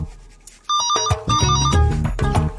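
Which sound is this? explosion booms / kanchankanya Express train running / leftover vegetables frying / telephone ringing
telephone ringing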